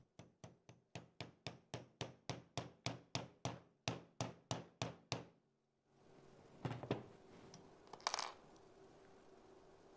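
Quick series of sharp metallic taps from a hammer on jewelry, about fifteen evenly spaced strikes, close and crisp, then a pause and a few scattered clinks.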